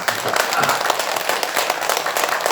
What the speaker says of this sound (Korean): 올 원별 위패를 모시는 모든 분께 우리 격려의 박수를 한번 보냅니다